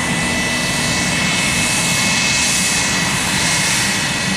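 Airliner engine roar near Tampa airport, a loud, steady broadband rumble with a high whine that holds unbroken through the whole stretch, no voices over it.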